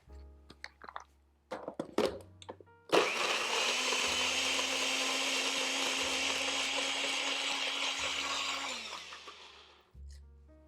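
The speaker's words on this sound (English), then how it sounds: "I'm gonna blend them just slightly before we throw them into the pan" Cherries blended briefly in a kitchen blender: a few clinks and bumps, then a loud steady motor whir with churning that runs about seven seconds before spinning down and stopping.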